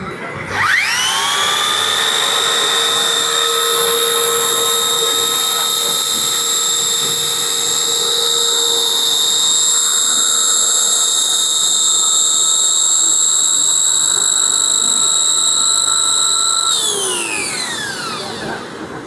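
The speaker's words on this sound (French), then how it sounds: "une scie pour couper des isolants en 300 mm, en rigide ou en souple" A high-pitched wire saw cutting rigid or flexible insulation whines up to speed, runs steadily at a loud, close level for a long stretch, then winds down at the end.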